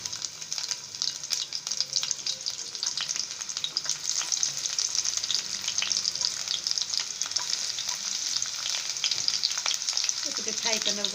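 Long-sliced onions fry in hot oil for chuda poha upma, giving a steady close crackling sizzle with faint stirring scrapes throughout.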